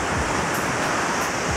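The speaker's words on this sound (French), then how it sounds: "Et il y a des vagues de dingue." Ocean surf at Manakara on the Madagascar coast, where small dugout pirogues head out to fish, rolls as a steady broadband wash of breaking waves, loud and continuous with no voices.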